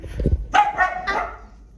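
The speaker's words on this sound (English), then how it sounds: "the dogs are being very annoying" Small sausage dogs at a home bark close by, a low gruff woof followed by two higher yapping barks in quick succession, loud and without talk.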